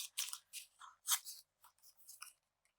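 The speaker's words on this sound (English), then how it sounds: "It's easier sometimes for me to use the scissors for these very exacting cuts." Scissors snipping paper from a mailer for a collage, a series of quiet, close, crisp cuts in an irregular rhythm with short pauses.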